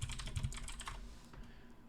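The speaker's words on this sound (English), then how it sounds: "let me just type in hair products" Keys clatter rapidly on a computer keyboard as a short search is typed, a close, steady run of soft clicks with no voices.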